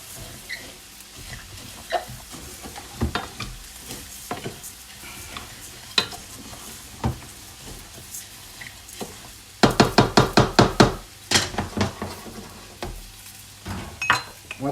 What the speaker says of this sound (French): Ici le riz, regardez, on va mélanger le riz comme ceci.